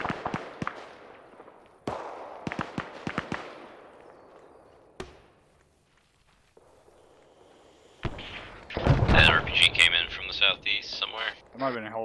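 Artillery shells from ArmA 3 slam down nearby in a military operation, a few sharp thuds early on, then a loud, crackling cluster of impacts with debris near the end, with voices talking under it.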